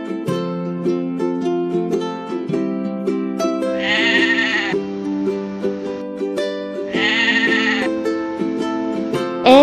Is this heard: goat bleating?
yes